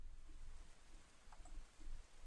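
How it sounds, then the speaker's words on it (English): Heavy rain falling in a steady faint hiss, with a low rumble underneath and no voices over it. "It's really raining pretty bad."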